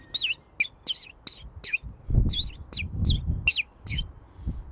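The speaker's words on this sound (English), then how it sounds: "we are now gonna test this bird whistle and see if we can call in any birds" A 3D printed bird whistle is blown outdoors in a series of about ten quick, sharp warbling chirps with a bird-like tone, close and clear over low wind rumble.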